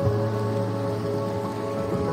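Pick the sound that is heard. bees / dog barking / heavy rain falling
heavy rain falling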